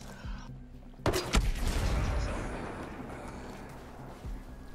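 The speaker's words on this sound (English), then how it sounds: "They definitely heard that explosion." An explosion in Ghost Recon Breakpoint erupts loudly after a quiet moment, a sharp broadband blast followed by a long rumbling decay that fades over a few seconds, with a smaller thump near the end.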